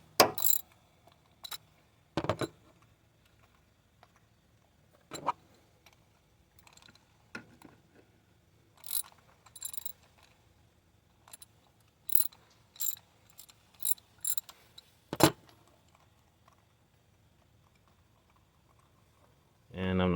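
Sharp clicks of a ratchet with a 6-inch extension and spark plug socket breaking loose a spark plug on a Nissan/Infiniti VQ35 engine. The clicks come in short, scattered bursts between quiet pauses, close and crisp.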